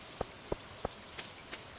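Rain in the video game Stardew Valley falls as a faint, evenly spaced patter of five soft drops, quiet and alone with no voices over it.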